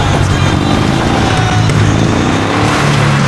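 An off-road car climbs a mountain track, its engine laboring loudly and continuously up close with a rough, strained drone throughout.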